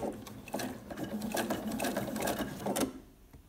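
A sewing machine stitches a bag in a quick continuous mechanical whir with rapid needle patter for nearly three seconds, then stops.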